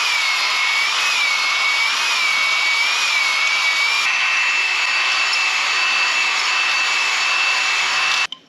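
Steady, loud, high whirring of a power tool cleaning piston ring grooves on a Caterpillar D4 D4400 engine, with a slightly wavering pitch that settles and runs continuously before cutting off abruptly near the end.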